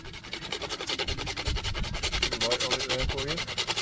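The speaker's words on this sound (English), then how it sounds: "We've got a nutmeg here, a whole nutmeg, and we're going to grate it." A whole nutmeg is grated on a small grater into a pan during campsite cooking, giving a steady run of quick, rhythmic rasping strokes close by.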